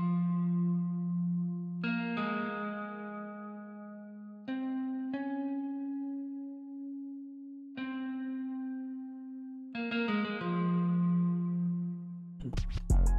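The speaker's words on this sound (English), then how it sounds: "I added a guitar, and this is a hella reverb on this." Sustained electric guitar notes ring out with a long, washy reverb tail, chords struck every few seconds and blooming into a spacious echo.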